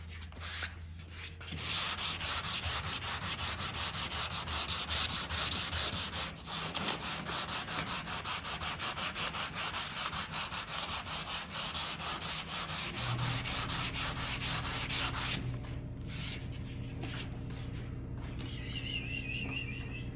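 Steady back-and-forth block sanding of body filler on a Chevelle scrapes on and on, a rough rhythmic rubbing close by with brief pauses, no voices over it.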